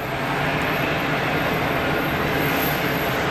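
Airliner turning out onto the runway centre line at Geneva Airport, a steady, loud, broadband engine roar that holds evenly throughout with no talk over it.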